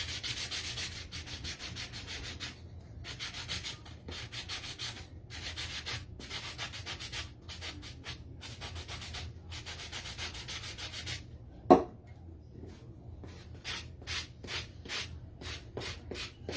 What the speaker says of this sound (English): So what I'm going to do, of course, is sand it up a little bit.